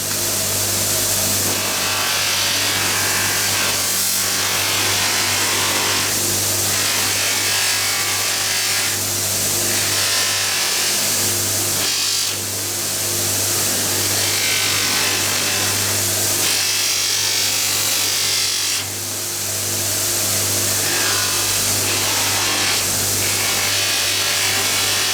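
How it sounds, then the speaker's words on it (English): A loose, unstitched fluffy mop buffing wheel polishes metal for an art deco wall sconce using a finer compound, giving a loud, steady whirring rub that swells and dips with each pass and has no talk over it. "we're going to go now to the loose mop, and we'll do the same thing but using a finer polishing compound"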